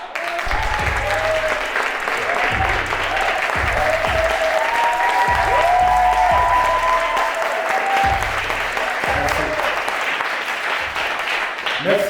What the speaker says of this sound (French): un tonnerre d'applaudissements s'il vous plaît pour Anthony Coca